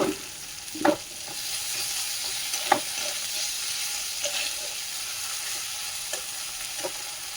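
Turmeric, ginger and a little salt frying in hot oil, a continuous close sizzle and spatter with a few soft clacks of a stirring spoon against the pan.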